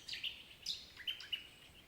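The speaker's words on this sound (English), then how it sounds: "all you hear are the birds going" Birds sing in a backyard garden near a gazebo with tomato plants, giving a few faint, high chirps and short tweets spaced through a quiet outdoor background.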